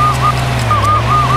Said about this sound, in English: I'm sorry about the siren if it gets a little annoying